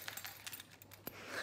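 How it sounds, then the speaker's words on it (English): Metal keys jangling in a hand, a few light chinks and rattles scattered through a quiet room, one sharper clink near the end. "I'm holding my keys."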